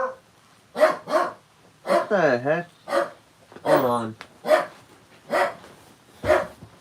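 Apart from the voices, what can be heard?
dog barking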